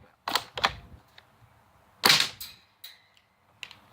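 An HPA-converted M82 Lancer Tactical airsoft rifle fires with sharp, close pops: two quick shots, then a louder third a moment later, followed by fainter clicks and a brief hiss.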